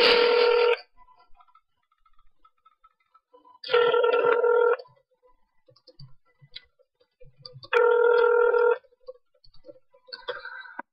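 Telephone ringing during a prank call to a Walmart store, three loud ring bursts of about a second each, evenly spaced with quiet gaps between them and faint background sounds in the pauses.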